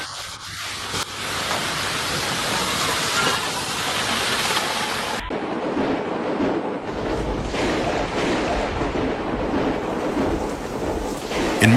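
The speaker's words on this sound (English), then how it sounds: "In many areas, wind gusts reach force 12 on the Beaufort scale, indicating extremely dangerous weather conditions and causing serious damage." Typhoon wind gusts roar over crashing surf in a steady, dense, loud wash of noise that buffets the microphone, with no voices.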